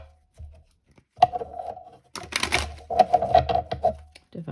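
A deck of tarot cards being shuffled during a reading, with soft papery riffles and dry flicking bursts in short clusters, close and fairly quiet.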